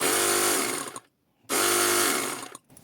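A cordless battery-powered pressure washer bought from AliExpress, drawing water through a hose from a bucket, runs in two loud, close bursts of steady whining motor-pump hum, separated by a brief silent pause.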